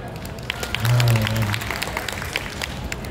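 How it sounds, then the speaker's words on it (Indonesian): A stand-up comedy audience claps in a brief burst of applause, moderately loud and scattered, with a comedian speaking over it. "Tepuk tangan."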